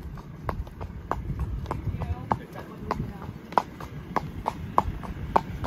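A horse out hacking canters along, its hooves clip-clopping in a quick, regular rhythm of sharp distinct beats, close and clear over low background noise.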